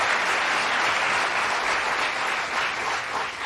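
Studio audience at a late-night talk show bursts into steady, dense applause that holds at full strength throughout, with no voices over it.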